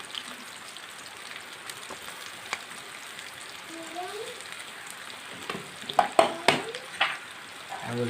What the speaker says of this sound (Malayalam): ഇതെല്ലാം കൂടെ നല്ലപോലെ ഒന്ന് വഴറ്റിയിടുക